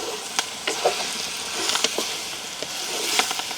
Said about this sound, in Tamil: கருவாடையும் இந்த எண்ணெய்க்கு நான் போட போகிறேன்